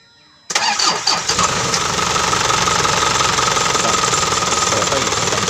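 A car engine starts after a radiator check. The starter cranks abruptly out of quiet and the engine catches quickly, settling into a loud, steady, close idle with a rough knocking texture.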